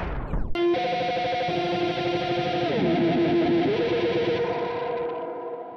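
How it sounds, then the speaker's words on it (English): A Roland Space Echo tape delay runs into feedback, a sustained distorted tone that sweeps and wavers, then spills into a spring reverb for a metallic splash that rings out and slowly decays. "It's me playing with the Space Echo, letting it feedback, going crazy, and then when I hit it off, it kind of hit the golden reverberator, spring reverb"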